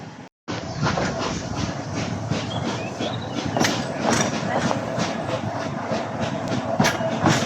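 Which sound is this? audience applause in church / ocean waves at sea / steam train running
steam train running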